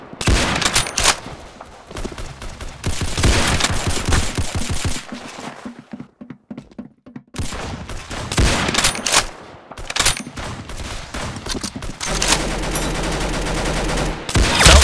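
Bursts of rapid gunfire from the Roblox game Arsenal come in loud clustered volleys and machine-gun rattles, with a short lull in the middle.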